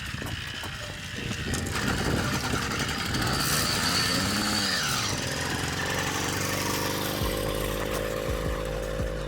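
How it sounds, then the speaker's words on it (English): Small engine on a motorized bicycle running, a continuous buzzing, rattling drone with squealing mechanical tones that rises after a quiet start and stays loud. "The engine coughs, jerks and it smells"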